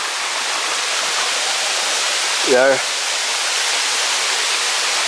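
Waterfall heard as a constant broadband rush of falling water, loud and steady throughout, with a brief spoken word partway through.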